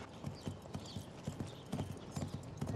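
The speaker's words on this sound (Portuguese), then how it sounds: "Como é que Salvador deu-te um cavalo chucro" A horse's hooves clip-clop in a steady trotting rhythm on hard ground, close and fairly loud, with no talk.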